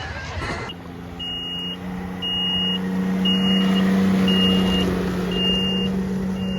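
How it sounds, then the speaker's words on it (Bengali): A police vehicle moves across an Alpine ski slope, its steady engine hum running under a string of short, evenly spaced warning beeps, loud and close. "এই যে গাড়িটা দেখছেন, এটা হচ্ছে পুলিশের গাড়ি"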